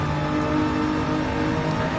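A race car in a racing video game accelerates hard on the throttle, its engine a loud, continuous, close-up roar holding steady for about two seconds.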